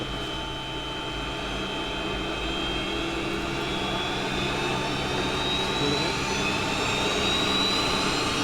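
Jet engines of a 1976 ex-Braniff Boeing 727 cargo plane spool up for takeoff, a loud, steady roar with a rising high whine that builds over several seconds, heard from the cockpit.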